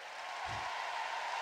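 Sustained audience clapping fills a hall at a Christian preaching event in Resistencia, Chaco, broad and even throughout, with a brief low thump partway through.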